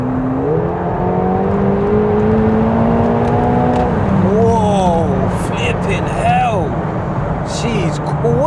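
McLaren 720S engine pulling hard under load through dual-clutch gear changes, with sharp pitch drops at each shift and a rising whine climbing again. A voice talks over the loud engine sound.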